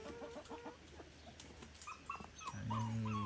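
Two young puppies beside a chicken coop give faint, high whimpers and small yelps, with hens clucking nearby; quiet and fairly close.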